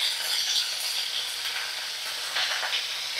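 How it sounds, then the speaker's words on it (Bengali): Broad beans frying in a pan with salt and turmeric, giving a steady close sizzle with faint clinks and stirring scrapes, no voices. "শিমগুলো ভালো করে ভাজা করব"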